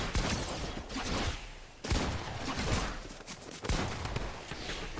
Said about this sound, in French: je suis nulle avec un fusil à pompe là